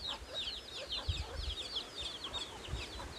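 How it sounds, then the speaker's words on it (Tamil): Native country chickens forage under trees, giving scattered soft clucks and short chirps at an easy, irregular pace, fairly faint and a little distant, with no talking. "கோழிகளை எல்லாம் மரத்துக்கடியில் போய் மேய்ஞ்சிட்ருக்குதுங்க"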